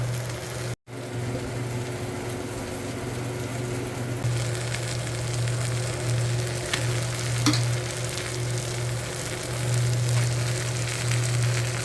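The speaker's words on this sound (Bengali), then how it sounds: "মশলাটা ভালোভাবে কষা হয়ে গেছে, এবার এতে ম্যারিনেট করা মাংসটা তুলে দেবো।" Marinated mutton sizzles steadily in a pan of cooked-down spice masala with tomato and green chilli, a continuous close frying hiss with occasional stirring scrapes and crackles.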